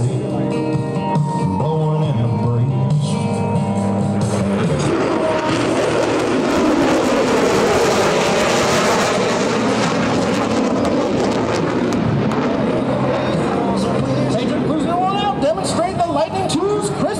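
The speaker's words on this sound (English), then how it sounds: "the F-35 demonstration team proudly presents the dedication pass" F-35A Lightning II fighter jet making a flyby during a demonstration at the 2024 Blue Angels Homecoming Airshow, a loud broad jet roar that swells in and holds while an announcer talks over it.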